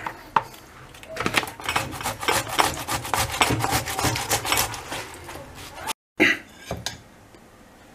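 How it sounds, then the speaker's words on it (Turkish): Fresh tomatoes rubbed briskly against a metal grater for a lahmacun topping, a rapid rhythmic rasping of close, repeated strokes with a short pause near the end. "Domateslerimizi rendeliyoruz arkadaşlar"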